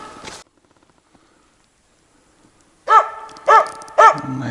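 A hunting dog in a forest barks at the trees, probably at a squirrel it senses but cannot see: after a quiet pause, three loud, close barks come separately with short gaps between them.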